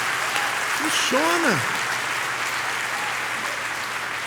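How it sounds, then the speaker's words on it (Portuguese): Congregation applause in a church service, a broad steady roar of clapping filling the space while a voice speaks briefly over it near the start. "Pode dar uma salva de palmas."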